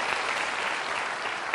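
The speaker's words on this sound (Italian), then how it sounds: "godetevi l'applauso del pubblico di Insieme" A studio audience at an Italian television variety show applauds steadily, a dense, loud wash of clapping filling the space without voices on top.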